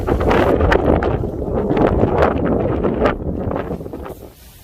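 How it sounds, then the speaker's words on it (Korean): Strong gale-force wind batters a backpacking tent on a mountain campsite facing Jirisan, loud roaring gusts and flapping fabric buffeting the microphone, easing off toward the end. "텐트 안이 이 바람이 불어가지고 난리가 아니네."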